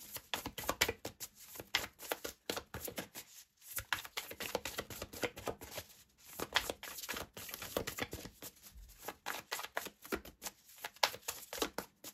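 Tarot cards being shuffled and drawn, a steady patter of riffling and flicking card noises in uneven bursts, close and soft, no talk.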